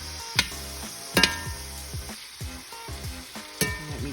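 Carnivore nacho ingredients cooking down in a pan: a soft continuous sizzle punctuated by a few sharp metallic clinks of a spoon or spatula and rapid small tapping strokes, fairly quiet and close.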